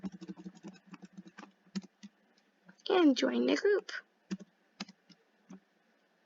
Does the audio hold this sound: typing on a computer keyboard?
yes